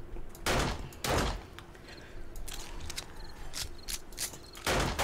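Gunfire in the video game 7 Days to Die during a horde night, several heavy shots in quick succession spaced across a few seconds, with mechanical clicks and thuds in between.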